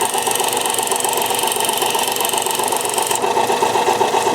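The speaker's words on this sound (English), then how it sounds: "I'll start this on a 400 grit wheel just to see if I can take that shape down a little bit." A lapidary machine whirs steadily with a loud, constant mechanical drone as a 400 grit grinding wheel shapes an opal, close and unbroken throughout.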